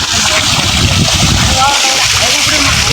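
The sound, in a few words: river water splashing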